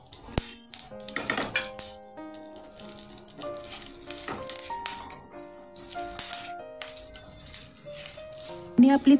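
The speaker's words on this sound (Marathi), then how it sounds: "आता आपण याच्यामध्ये फोडणीचं साहित्य घालून देऊ." Spices sizzling in hot ghee for a Gujarati kadhi tempering, close crackling and frying that rises in bursts, mixed with clinks of pots and utensils and faint background tones.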